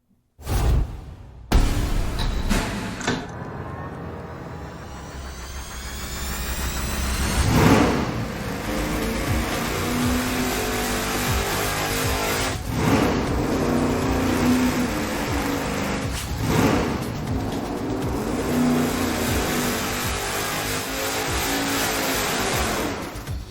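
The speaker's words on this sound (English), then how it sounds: "so let's fire it up with 20 degrees of timing" A car engine on a dyno, running 87 octane pump gas with 20 degrees of timing, fires up and then roars loudly as it sweeps up through the revs, heard alone.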